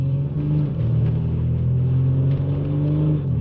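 A Mercedes-Benz W205 C-Class engine hums steadily from inside the cabin while downshifting to fifth with the paddle shifters, a smooth low rumble with slight changes in pitch and no voices.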